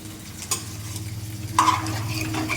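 A vegetable ghyat curry is stirred in a pot, a spoon scraping and clinking steadily against the metal over a low sizzle, with a sharper scrape midway and no voices.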